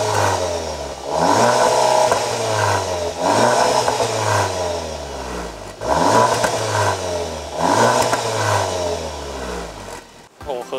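A 2018 Skoda Octavia Combi RS 2.0 TSI with a modified exhaust is revved in four loud, close bursts, each rising then falling back toward idle, with no talking.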